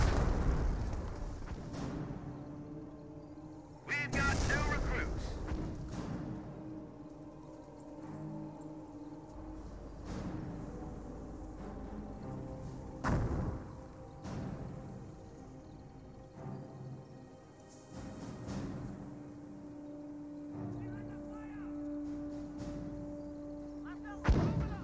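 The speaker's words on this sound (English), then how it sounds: "We have some more mortar hits there." Mortar shells land in Company of Heroes 1 as a series of heavy, irregular thumps and booms spread several seconds apart, mixed in with game ambience and a commentator talking.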